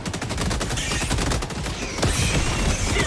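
Mortar fire in Helldivers 2: dense, continuous barrage of booming explosions and gunfire, loud and close, with a heavier blast near the end and no talk over it.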